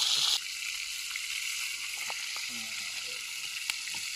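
Bangda mackerel frying in a pan, a moderate sizzle with some bubbling and clinks as the pan is shifted; a brief louder burst opens the clip and muffled background sounds appear in the middle.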